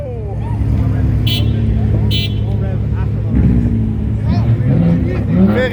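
Ferrari sports car on a Montreal street during the Formula 1 weekend, its engine revving loudly and rising in pitch as it passes close by, with a crowd chattering and someone speaking over it.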